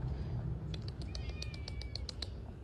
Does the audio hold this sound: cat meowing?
yes